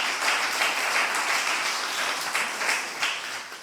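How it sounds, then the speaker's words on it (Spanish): A church congregation applauds together during a service, a steady broadband wash of many hands clapping that holds for several seconds with small surges, no speech over it. "Una ofrenda de palmas al Señor con todo el corazón."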